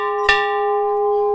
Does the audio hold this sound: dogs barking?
no